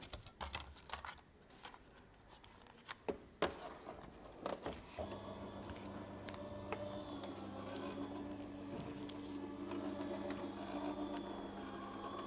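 A die-cutting machine runs a Christmas floral die through, a steady mechanical rumble and whir after a few scattered clicks and handling knocks, close and continuous.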